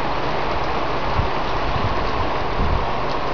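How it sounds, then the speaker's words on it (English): Heavy thunderstorm rain pours down in a dense, steady hiss, drops drumming on nearby surfaces, loud and uninterrupted with no voices. "Look at all the rain."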